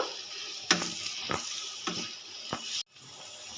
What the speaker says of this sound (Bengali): এবার এর মধ্যে আমি দিয়ে দেবো অল্প পরিমাণে চিনি দিয়ে একটু নেড়ে চেড়ে নেব